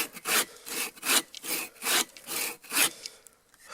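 A bow saw cuts wood in an awkward kerf, giving about seven rasping strokes in a steady back-and-forth rhythm, close and loud, with no voices.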